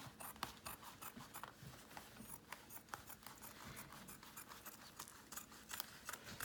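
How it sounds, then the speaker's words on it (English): Scissors running down fabric material alongside laid ribbon, giving a steady close rasping and snipping texture that continues for several seconds at low level. "you just take your scissor and run it down the material"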